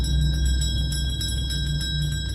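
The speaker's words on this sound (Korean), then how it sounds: "웬 종소리가?" Bell ringing in a post-apocalyptic aquarium horror video game, a steady, sustained metallic ringing with faint repeated strikes over low ambient hum.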